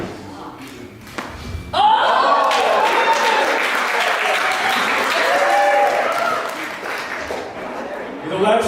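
An audience breaks into loud, sustained applause after a hat-juggling trick, a dense wash of clapping that starts abruptly, holds steady with scattered laughter and chatter, then tapers near the end.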